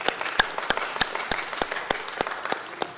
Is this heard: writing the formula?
no